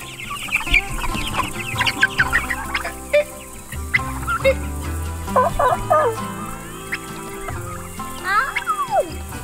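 Chickens clucking and calling inside a crowded brooder, several birds overlapping in irregular bursts of clucks and squawks close by, with no talk.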